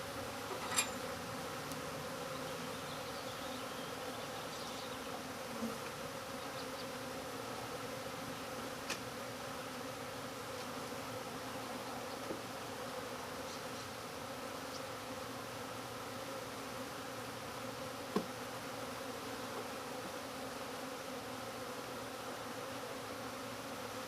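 Dense swarm of honey bees buzzing steadily around an open backyard hive during routine maintenance, a continuous close, even drone with no talk over it.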